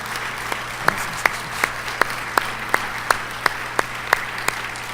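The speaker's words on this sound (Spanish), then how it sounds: "denle un aplauso al Señor" An audience at a church conference claps in a slow, steady rhythm, sharp individual claps spaced evenly over a quiet hum.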